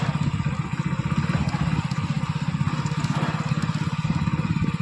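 A tractor passes along a village road near a bridge, its engine making a steady, close, loud chugging throb that pulses evenly throughout, with no voices.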